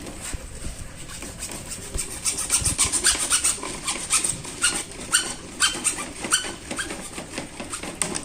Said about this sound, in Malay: sekarang ni saya akan potong di sebelah sini pula.